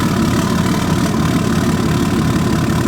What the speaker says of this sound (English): We're gonna get that started up here. Instantly kicked into high idle.